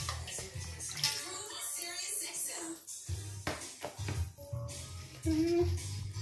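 Water sloshes and splashes softly as rice paper sheets are dipped and moved through a shallow pan of water, with light kitchen clatter and brief bumps around it.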